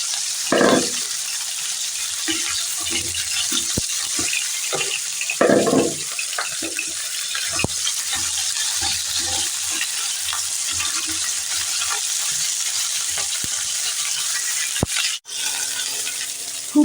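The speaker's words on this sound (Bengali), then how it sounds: "এবার ভালো করে লাল লাল করে ফুলকপিগুলোকে ভেজে উঠিয়ে নেব।" Cauliflower florets frying in turmeric-tinged oil in a wok, a loud continuous sizzle with scattered stirring knocks and scrapes throughout.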